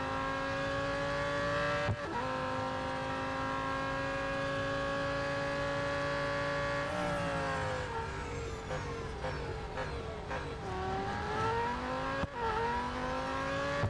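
A race car engine in Real Racing 3 drones loudly and continuously, holding a steady pitch, then dropping and climbing again through gear changes, with brief clicks and a faint tire squeal.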